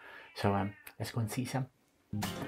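A Siamese cat meowing nearby in a room full of cats, several drawn-out, tonal meows that alternate with a person speaking.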